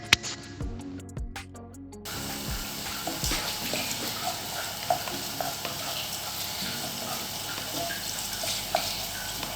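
Green chillies are dropped into hot oil for a Kerala mango pickle, with a few sharp clatters followed by a continuous bright sizzle that holds steady throughout.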